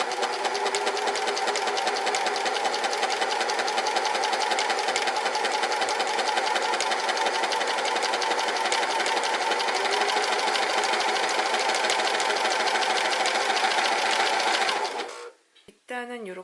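A serger sewing machine runs a fast, steady stitch along interlock knit fabric, the mechanical whir loud and continuous for about fifteen seconds before stopping abruptly, with no talk over it.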